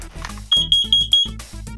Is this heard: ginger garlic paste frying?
no